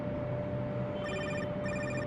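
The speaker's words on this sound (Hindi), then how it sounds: "दोपहर के 2 बजते हैं और इसके फोन पर इनके छोटे भाई सलीम का कॉल आया" A telephone rings for an incoming call, two short electronic trilling bursts over a steady background hum, fairly quiet and with no voices.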